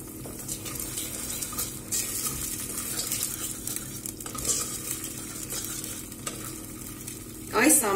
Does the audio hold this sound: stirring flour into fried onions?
yes